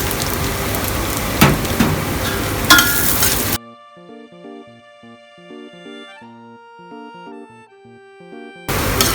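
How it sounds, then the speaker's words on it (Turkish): Carrots and onions sauté in a pan for a Turkish barbunya pilaki, a dense crackling sizzle with sharp clinks of stirring. The sizzle cuts off abruptly, a passage of tuned melodic notes follows, and the sizzling returns briefly at the end. "Evet, havuçlarımız ve soğanlarımız kavruldu."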